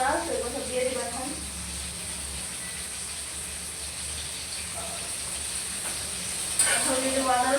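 Ground cloves, cardamom, cinnamon, bay leaf and saffron hit a hot pan of oil, setting off a steady sizzling hiss that swells briefly near the end, while someone talks over the cooking.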